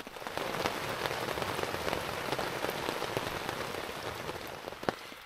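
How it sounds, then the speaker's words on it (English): Rain patters on a tarp strung over a camping hammock, a steady dense drumming of close drops with a few louder splats, no voices. "listen to the sounds of the rain"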